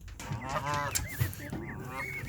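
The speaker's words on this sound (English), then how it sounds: "those aren't ducks, those are geese" Several loud, close Canada geese honk in quick succession at a lake, harsh nasal calls overlapping one another.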